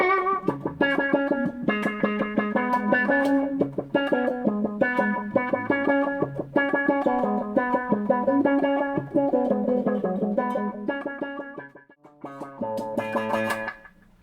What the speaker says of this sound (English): It's an envelope filter.